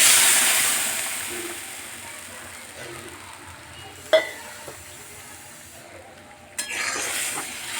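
Boiled moong dal poured into a pan of tomatoes frying in oil, with a steady soft sizzle, a sharp clack of utensil on pan around the middle and a louder splash-like burst near the end.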